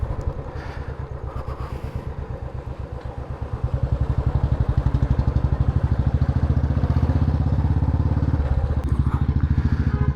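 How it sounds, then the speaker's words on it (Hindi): Royal Enfield Bullet motorcycle riding along, its single-cylinder engine thumping in a steady, loud, close rhythm that grows stronger after a few seconds and holds throughout, with no one talking. "बुलेट का भी एक अपना ही मज़ा है यार।"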